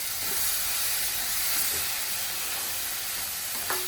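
Tomatoes and onions frying in oil for a drumstick thoran: a steady, close sizzling hiss that continues evenly throughout, with no voices.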